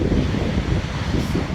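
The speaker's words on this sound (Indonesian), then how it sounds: "selain angin berhembus kencang, kita bisa melihat ombak cukup deras" Strong wind buffets the microphone with a dense, roaring rumble as surf washes continuously at a beach in Aceh, loud and unbroken throughout without any talk.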